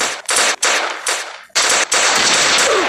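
Gunfire in a Roblox World War 1 battle game: loud, close bursts of rapid shots come in repeated volleys with brief gaps between them, the longest stretch running through the second half.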